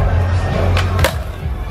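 A skateboarder lands a flip into a backside pivot at the Valencia skate plaza during the Urbans Festival 2017. Wheels roll and rumble under crowd noise, and a few sharp board clacks ring out, the loudest at the end.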